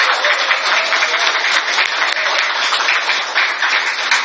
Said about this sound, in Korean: 다시 한번 박수 보내주시기 바랍니다